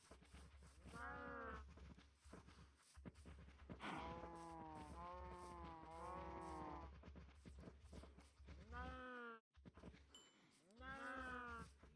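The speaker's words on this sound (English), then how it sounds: "I see an adult cow over there." A Minecraft cow lets out a series of long, loud, drawn-out moos, one after another, with a short gap near the end.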